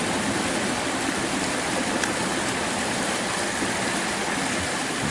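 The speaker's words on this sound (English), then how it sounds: "the siphon has begun, and the turbine will start up. And you get a ton of air, of course, a lot of pipe. And speed's increasing." Water rushing through a siphon pipe to drive a small turbine at a pond, a continuous loud broadband gushing roar, steady and close with no talk.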